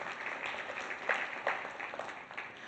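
An audience at a consumer goods and services ombud partnership event applauds the participants, a steady wash of clapping with a few sharper claps standing out, moderately loud and continuous throughout with no talk over it.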